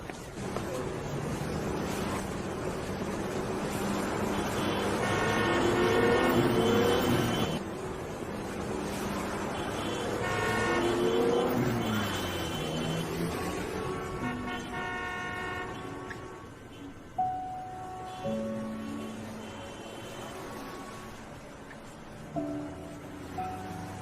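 Cars drive past through a long, loud wash of traffic noise while horns toot and blare again and again, some held for several seconds, until the passing traffic thins toward the end.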